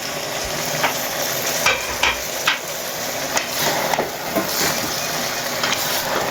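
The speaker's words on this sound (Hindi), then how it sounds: "इसमें हम लोग आलू मिक्स करेंगे।" Potatoes are stirred into sizzling masala in a pan for aloo moongray, a steady loud frying hiss broken by irregular scraping knocks of the spoon, with no talk.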